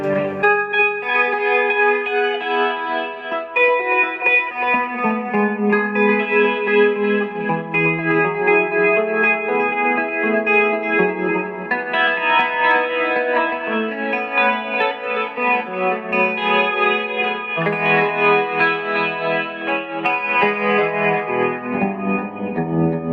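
An electric guitar played through a pedalboard with a Ghost Echo reverb pedal rings out in lush, washed chords and sustained notes, loud and continuous with a spacious reverberant tail.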